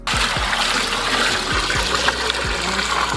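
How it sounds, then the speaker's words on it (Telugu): Steady stream of water pouring into a biryani cooking pot, a continuous splashing gush with low thumps, close and fairly loud throughout. "రైస్ కోసం దబరా పెట్టి సరిపడ నీళ్లు పోసుకుందాం"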